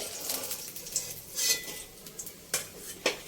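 Small tangra fish fry in hot oil in a pan with a steady crackling sizzle, while sharp metal clinks and scrapes from a turning utensil break through every second or so.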